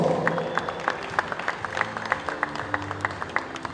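Audience applause at a National Futsal League match of the South African Indoor Football Association, a scattered ripple of claps from a modest indoor crowd, moderately distant, with a low hum of voices underneath.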